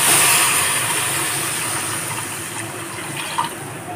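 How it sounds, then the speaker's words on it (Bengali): Moong dal coming to a boil in a cooking pot gives a steady, close bubbling hiss that fades slightly over a few seconds, with no voices. "মুগের ডালটা ফুটতে শুরু করে দিয়েছে।"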